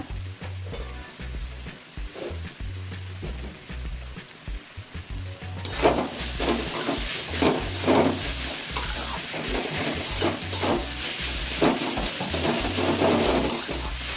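Radish with a little sugar stir-fried in a pan, a steady close sizzle that swells louder partway through, with scraping stirring strokes under it and no talk.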